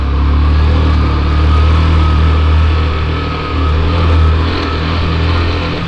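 A motorbike engine runs loud and close, rising and falling in a continuous low rumble as the throttle is revved, with no voices over it.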